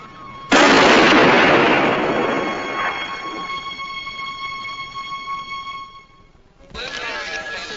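Police open fire on command in a drama: a sudden loud burst of gunfire hits hard and then decays into a long ringing tail, followed by another sharp noisy burst near the end, with voices around it.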